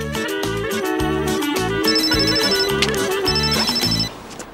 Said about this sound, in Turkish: Ağa, telefon çalıyor.